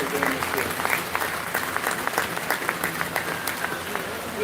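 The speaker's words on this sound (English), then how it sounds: "let's go ahead and give them a big round of applause" Crowd applause at a 4-H and FFA swine show at a county fair, many hands clapping in a dense, continuous patter that stays loud and even.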